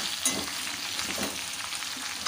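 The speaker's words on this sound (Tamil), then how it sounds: "வெண்டைக்காய் வந்து வதங்கட்டும்." Okra sautéing in a pan with salt and turmeric gives a steady, close sizzle with soft stirring scrapes throughout. There is no talking.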